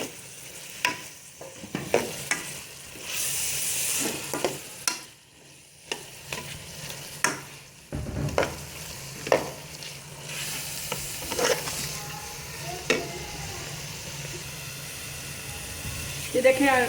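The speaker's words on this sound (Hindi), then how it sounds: "ये देखें उसके अंदर हमने आलू मिक्स कर दिए हैं और अब इसके अंदर और 5 मिनट तक मैंने भून लिया इनको" Boiled potato paste is stirred and fried into a chickpea gravy. A spoon scrapes the pan in repeated, irregular strokes over a soft, steady sizzle, close to the listener.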